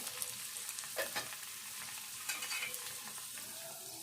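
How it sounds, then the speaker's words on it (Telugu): Thinly sliced onion frying in oil with cumin and mustard seeds, giving a soft, steady sizzle with a few sharper stirring scrapes and clinks of a spoon in the pan. "జీలకర్ర వేసుకొని ఆవాలు వేసుకోవాలి కొంచెం అవి అట్లా వేగంగానే ఉల్లిపాయ వేసుకోవాలి సన్నగా కట్ చేసుకున్న ఉల్లిపాయ"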